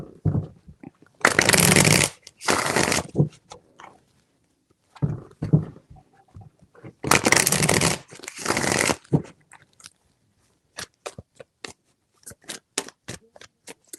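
Tarot cards being shuffled in bursts: two long riffling sweeps, a pause, then another long sweep, followed by a run of sharp, separate card taps and snaps close to the mic, with no talking.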